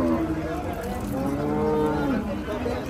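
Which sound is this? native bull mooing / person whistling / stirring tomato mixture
native bull mooing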